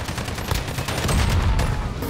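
Dense, rapid gunfire rattles continuously and loudly through a 2v2 match in the video game Modern Warfare Alpha, with bursts overlapping and no clear pauses.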